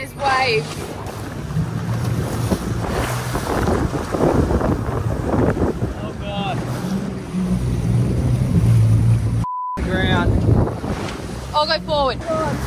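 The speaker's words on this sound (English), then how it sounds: "God, we're grounded and there's waves." Wind buffets the microphone and waves wash around a boat grounded on a low-tide sandbar off Tasmania's east coast, a steady rushing roar under anxious speech, with brief calls and a short dropout midway.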